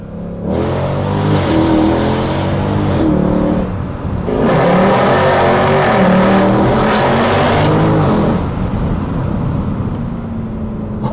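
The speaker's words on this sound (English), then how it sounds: "This is the last generation we're gonna have that throaty, raw V8 sound note." A Mercedes C63 AMG V8 with wreck damage accelerating hard on the road, loud throaty engine note rising through the gears with brief dips at shifts, close and continuous without talk.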